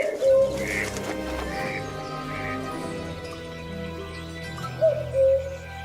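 A common cuckoo calls twice, a soft two-note song at the start and again near the end, over a steady background of gentle tonal sound.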